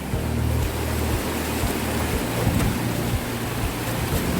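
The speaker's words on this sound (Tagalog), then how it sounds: "Yan, lakas ng tubig." A strong river current roars steadily and loudly, with a broad constant wash and low rumble close by.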